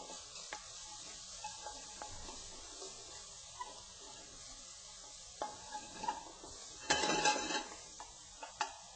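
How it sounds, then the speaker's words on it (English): Bacon crisping in a pan as its fat renders, with a soft steady sizzle broken by clinks and scrapes of a utensil stirring against the pan, a brief louder rattle near the end. "I'm cooking the bacon crispy, rendering out the fat"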